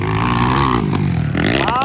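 An enduro motocross bike races in the local enduro final heat at the Kaamulan Festival, its engine revving loud and close with rising and falling whine, while a voice is faintly audible.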